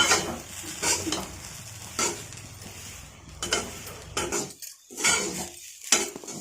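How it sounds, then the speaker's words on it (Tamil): Grated coconut for burfi sizzles in a pan while a utensil stirs and scrapes it, with soft frying crackle broken by several louder scraping strokes spread through the stretch, close and without speech. "நல்லா சுறுசுறுன்னு சொல்லுது"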